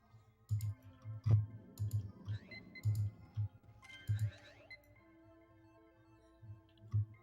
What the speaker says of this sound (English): I can tell by the keystrokes and how it's bumping the table and the microphone.